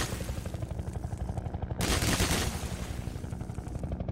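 Gunfire in Half-Life 2 VR, a fast rattle of automatic shots running steadily, broken by a louder burst midway, with no one speaking.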